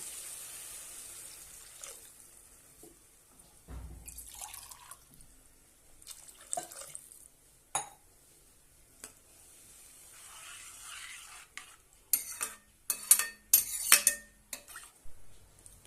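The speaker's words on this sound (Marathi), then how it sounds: "आता यामध्ये आपण पाणी घालूया।" Water is poured into a pot of methi rice pulao, with splashes and drips alongside clinks of a utensil against the pot, ending in a louder burst of pouring and scraping, close up with no talk.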